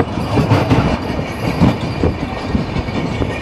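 A Narasapur to Guntur passenger train runs along the track, a loud continuous rumble with rhythmic clickety-clack of wheels over rail joints, heard from close by.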